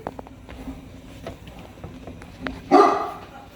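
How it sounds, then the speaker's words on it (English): A pet dog named Scout gives a short burst of barks and yips in a home kitchen. Soft clicks and faint sounds come before them, and one louder bark stands out near the end. "you got a little serenade from your dog"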